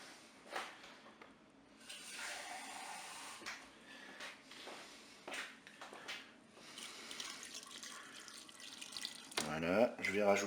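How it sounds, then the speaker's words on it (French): Water pours into the inner pot of a Cookeo multicooker during preparation of paprika chicken with potatoes, a steady broadband splashing that runs for several seconds, with brief talk interleaved. "je vais verser de l'eau dans la cuve"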